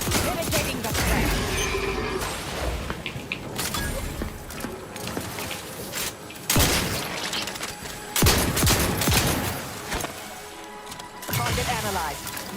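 Gunfire in the sci-fi video game The Outer Worlds, a dense fusillade of repeated shots with mechanical clanks, running steadily throughout with several louder bursts, while a voice speaks over the combat.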